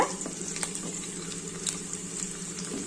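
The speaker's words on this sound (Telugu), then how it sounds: "కొంచెం లావు ఉంటే అవి కట్ చేసుకోండి రోస్టెడ్గా వేయించుకోవాలండి ఎల్లిపాయ" Garlic fries in a pan for a broad-bean curry tempering, giving a steady close sizzle with soft crackles and an occasional light pop, even and moderately quiet throughout.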